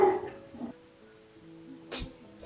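A dog in the Minecraft video game gives a few short whimpering yips, with a brief sharper bark near the end, spaced out over quiet game background with no speech.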